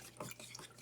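Guitar lacquer is stirred in a container, a brief series of soft, quiet scraping and swishing strokes.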